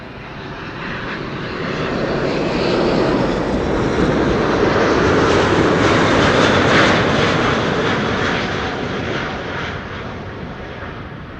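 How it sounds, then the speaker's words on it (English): A KLM Boeing 777-200 airliner arriving at Amsterdam Schiphol swells into a loud, broad jet engine roar as it passes overhead, then slowly fades, with no voices present. "This is KLM Flight 668 arriving from Austin"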